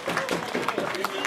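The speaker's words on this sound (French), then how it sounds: "Applaudissements" Audience applause at the Tour de Romandie 2017 prologue cycling podium ceremony, a steady burst of clapping from the crowd with a voice speaking over it.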